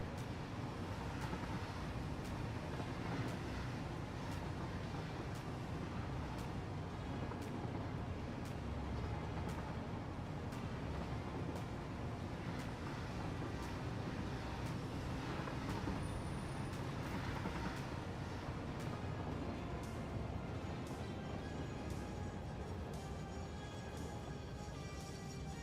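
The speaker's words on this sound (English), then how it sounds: "the locomotive I'm currently riding on" A locomotive rumbling along in Factorio, a steady, dense mechanical drone with faint rhythmic clatter, held at a constant low level throughout with no talk.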